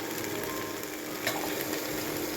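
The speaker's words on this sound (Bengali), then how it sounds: "ফুলকপিটা ভাবিয়ে রেখেছিলাম, সেটা দিয়ে দিচ্ছি" Soaked cauliflower pieces sizzling in a hot pan for a vegetarian korma, a dense, even frying hiss with a faint clack midway, close and steady without talking.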